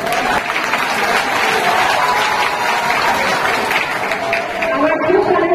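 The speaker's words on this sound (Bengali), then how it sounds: "তোমাদের জন্য একটা খুব বড় করতালি আমি আশা করব।" Audience applause, sustained clapping from a crowd filling the room for several seconds, with voices mixed in.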